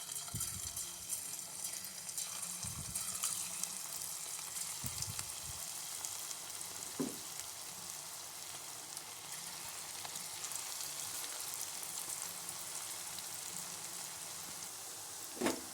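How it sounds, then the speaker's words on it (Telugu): Corn and onion pakodas deep frying in hot oil, giving a steady, faint bubbling hiss broken by a few soft clunks and taps as pieces are dropped or moved. "ఇప్పుడు మనం పకోడా వేసుకుందాం"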